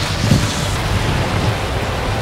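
Caribbean Sea surf at a resort's private beach washes in a steady, loud broadband roar mixed with gusty wind noise on the microphone, and nobody speaks.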